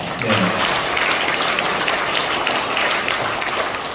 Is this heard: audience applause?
yes